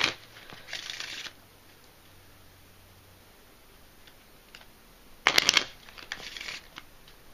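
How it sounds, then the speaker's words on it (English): An ordinary deck of playing cards is shuffled in two short bursts of riffling and fluttering, close and crisp, with a quiet pause between them and a few faint taps and rustles. "And we'll give them a few shuffles."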